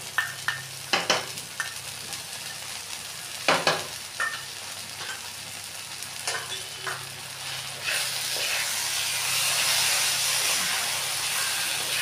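Spice paste stir-fried in a pan for Bengali soybean curry with potatoes: a low steady sizzle with scattered scraping and stirring clicks, the frying hiss swelling louder and denser in the last few seconds.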